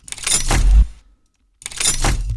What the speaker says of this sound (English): And then we have this other lockdown sound that sounds like this.